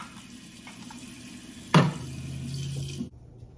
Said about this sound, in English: I'm just rinsing the can.